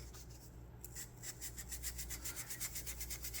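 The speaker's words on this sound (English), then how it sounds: "we actually need to sand a little bit more down that way" Sandpaper rubbing back and forth along the shaft of a small wooden model oar near the blade, a steady series of soft rasping strokes, close and fairly quiet over a low hum.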